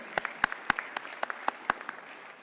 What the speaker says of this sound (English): Huge round of applause to welcome Soni sir.